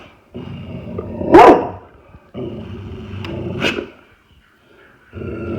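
A dog lets out two deep, loud barks, separated by stretches of low rumbling background noise.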